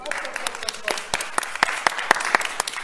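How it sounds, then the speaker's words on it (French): Applause from a live show audience, a steady patter of many hands with sharper individual claps standing out, loud and close, mixed with some voices. "On vous applaudit bruyamment, regardez."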